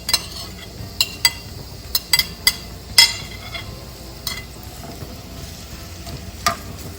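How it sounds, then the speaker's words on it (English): A low, steady sizzle of onions sauteing in a large frying pan, broken by sharp clicks and scrapes of a utensil stirring, with no talking. "so just saute the onions"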